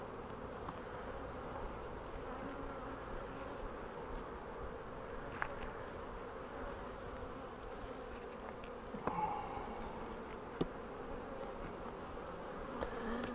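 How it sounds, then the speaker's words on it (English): Honeybees buzz and fly up from a queen-rearing hive in poor weather, a steady close hum of many wings with occasional individual bees zipping past. "The other reason that bees fly up like that is because the weather's crappy"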